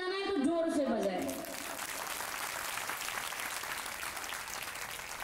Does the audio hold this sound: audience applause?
yes